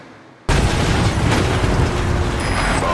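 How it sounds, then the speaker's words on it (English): In Metal Gear Solid V, a vehicle crashes and explodes, a sudden loud burst after a quiet moment that rolls on as a sustained, dense roar of blast and debris. "Boss, did you see that explosion?"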